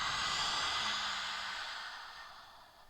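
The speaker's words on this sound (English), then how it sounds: "we're going to breathe in through the nose and then exhale through the mouth, letting something go" Deep breath drawn in through the nose during a gentle stress-release yoga session, a steady airy rush that swells and slowly fades across the whole moment.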